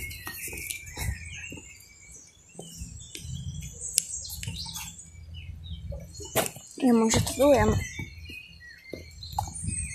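A small bird chirps in a park in Portugal, bright tweets scattered through the clip with a louder trilling burst near the end, heard over people talking and walking.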